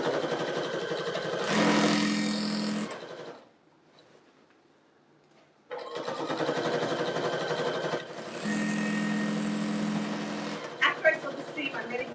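A home sewing machine stitches a seam through thick layered fabric for a Wave Bargello and Jelly Roll rug, running in two loud, steady mechanical bursts separated by a few seconds of near silence.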